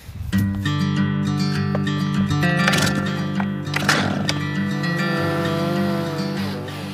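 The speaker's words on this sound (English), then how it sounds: "He's a sculptor, but instead of a chisel, he uses a chainsaw" A chainsaw carving a wooden sculpture gives a loud, continuous buzzing engine drone, with rougher bursts as the chain bites into the wood.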